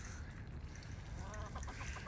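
Chickens cluck outdoors on a snowy hillside, a few short calls rising near the end over a steady low background hum, fairly faint.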